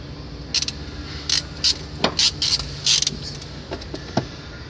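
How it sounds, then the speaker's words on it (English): A hand crimping tool presses a relay pin onto a wire during automotive wiring work. It gives a run of close, sharp ratcheting clicks and creaks in quick irregular bursts. "We're going to crimp one of these relay pins onto it"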